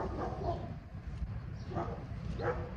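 Dogs barking outdoors in the distance, a few faint barks rising over a steady background hum.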